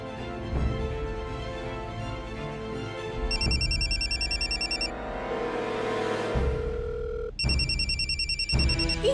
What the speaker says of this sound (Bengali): ইন্দ্র ফোনটা তুলছে না কেন?